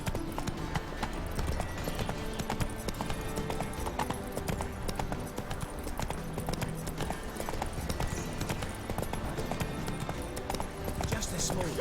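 Hooves of the horse Roach gallop steadily and quickly in The Witcher 3: Wild Hunt, a continuous rhythmic clatter close and loud, with a voice speaking over the running.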